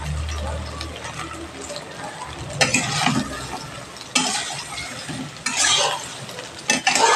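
Soybean chunks frying in hot oil over a medium gas flame, a steady sizzle broken by louder bursts of spatula stirring and scraping against the pan.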